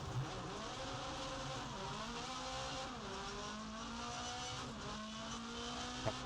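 On the Circuit de Barcelona-Catalunya rallycross track in a racing game, a rallycross car's engine revs and climbs through shifts at a steady moderate level, with a brief louder bump at the end.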